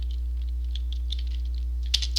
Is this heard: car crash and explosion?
no